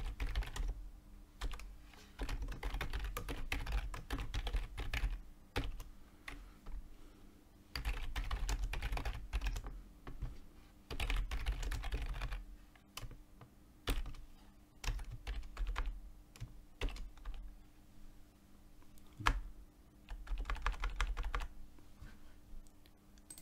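Steady computer keyboard typing while code is written for a trading expert advisor, bursts of rapid close key taps broken by short pauses, with no voices.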